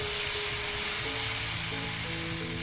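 Wheat flour batter hisses loudly on a hot pan in a constant, close sizzle, broadband and unbroken, with no voice heard.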